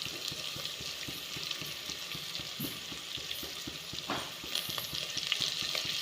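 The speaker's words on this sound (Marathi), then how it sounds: "त्यानंतर हे चिकन चांगलं फ्राय होऊन द्यायचं" Village chicken fries in a pan with a steady sizzle, while a spatula stirs it in a regular rhythm of soft scrapes and taps, close up and with no talking.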